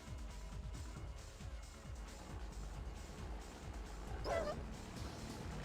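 An attack dog in the strategy game Red Alert 2 gives a brief bark during a tournament match, faint and set within steady game music and battle noise.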